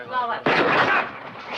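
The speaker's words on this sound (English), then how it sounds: "The gunshot, I heard it." A sudden loud gunshot in a 1957 western film cracks in abruptly after a brief stretch of voices and leaves a broad rumbling burst that fades slowly.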